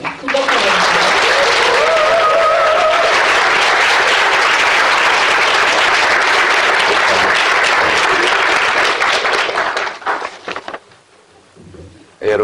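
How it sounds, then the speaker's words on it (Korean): An audience at a university lecture at Dongguk University applauds to welcome a former health and welfare minister, loud dense clapping sustained for about ten seconds, then fading away as a voice begins. "큰 박수 부탁드립니다"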